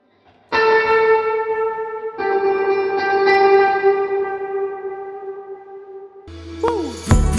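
An electric guitar drenched in heavy reverb rings out in long sustained chords, each one swelling and slowly decaying into a wash, with a brief clipped note and pitch bend at the very end.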